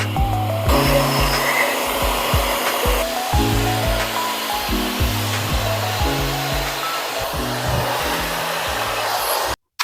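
An AXIA HaloRing hair dryer runs on its high heat setting, a loud steady airflow roar with a low pulsing hum underneath, continuous and close by until it cuts off abruptly at the very end.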